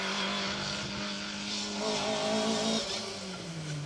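A rally car powering through a Manx Rally asphalt special stage, engine note droning then rising as it nears, gear changes audible, moderately distant and alone without talk.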